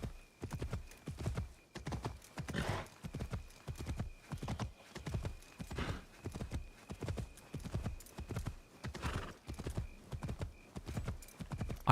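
Horse hooves clip-clop steadily while riding in Assassin's Creed Shadows, a regular galloping rhythm of thuds repeating throughout, fairly close, with a faint steady tone underneath.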